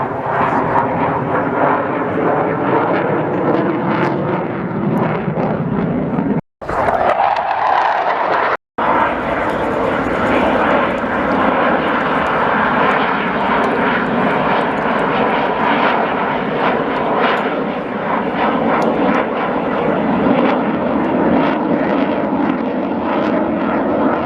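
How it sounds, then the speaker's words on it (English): A jet aircraft roars past at the Royal International Air Tattoo 2022 airshow, a loud, continuous, rushing engine noise lasting over twenty seconds, broken only by two brief cuts. "hopefully we can see the nice flames behind the jet"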